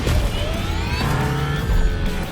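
An Audi S1 E2 Quattro rally car with two Formula E electric motors shrieks its tires in The Crew Motorfest racing game, loud, continuous squeals layered over rising and falling electric whine and motor roar.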